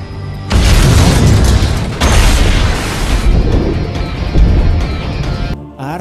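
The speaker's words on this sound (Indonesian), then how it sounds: "saat dia berjalan di jembatan, sebuah bom tiba-tiba meledak" A bomb goes off on a bridge in a film scene, a loud rumbling blast that hits hard, swells again about two seconds later with a second heavy burst, then rolls on as sustained debris-filled roar before cutting out abruptly near the end.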